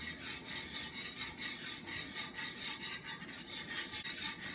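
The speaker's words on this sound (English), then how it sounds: "Now we're going to slowly whisk in 1 cup of quick cooking grits." Quick cooking grits whisked into boiling salted water, a steady rapid scraping and rasping of a whisk against the pot, with no voices.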